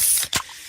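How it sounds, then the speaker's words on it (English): A can of Pepsi cracks open with a short, sharp pop and a fizzy hiss of escaping carbonation, close and clear, with no talking. "that's the sound of a freshly opened fizz-filled Pepsi"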